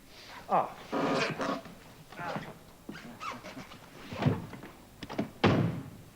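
A person bumps into a closed door, making a dull, solid thunk amid overlapping voices and scuffling movement nearby.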